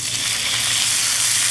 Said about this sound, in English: Now we're just going to cook our artichokes probably 2 or 3 minutes.